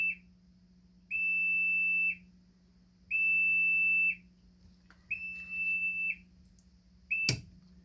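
A Ludlum 375 area radiation monitor sounds its alarm as a radioactive source is brought near, giving loud one-second tonal beeps at a steady rhythm, with a low mains hum underneath and a sharp clack near the end.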